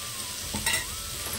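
Mint and coriander leaves fry in oil with carrots and beans, giving a brief steady sizzle with one quick stirring scrape in the middle, close and moderately loud.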